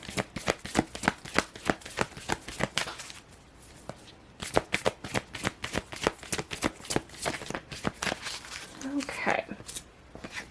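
Tarot cards are shuffled close up in repeated crisp riffling bursts, with a short pause partway through before the rapid flicking resumes, and a voice speaks faintly near the end.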